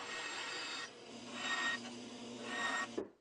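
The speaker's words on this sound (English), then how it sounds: "And then I cleaned the cuts up a little bit with a knife." A knife blade scrapes and rubs along freshly sawn cuts in wood, giving a few dry rasping strokes close by with short pauses between them.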